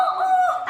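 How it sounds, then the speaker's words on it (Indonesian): A rooster crows in a short, loud, close burst. The tone is steady and strongly pitched, then cuts off abruptly, with no voices around it. "dengar suara ayam berkokok"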